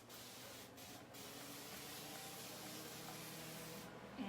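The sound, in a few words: spray bottle spraying water onto a painted door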